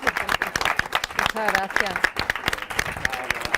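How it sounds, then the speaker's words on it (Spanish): Applause from a small gathering at a gastronomic circle event, sparse uneven claps mixed with loud talk close by, a voice speaking partway through. "creo que también se merecen un aplauso"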